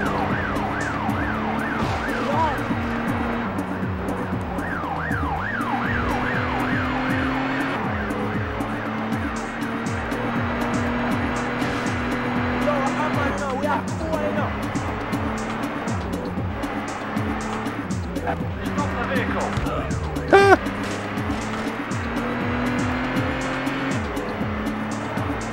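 Racing car engines rev in The Getaway video game, with tires squealing repeatedly through sharp turns, and sirens wail in the background. Engine pitches rise and fall as gears change, with a sudden loud bang near the end.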